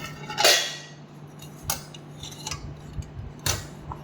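Utensil scraping and clinking against a pot of fish curry, with a few sharp metallic knocks spread across a few seconds, moderately close over a low steady hum.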